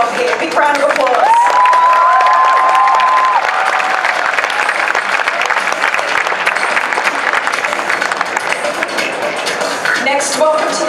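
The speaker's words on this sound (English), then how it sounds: "Big round of applause." Audience at a cosplay competition in Perth applauds and cheers loudly and steadily, a dense wash of clapping with shouts mixed in, lasting throughout.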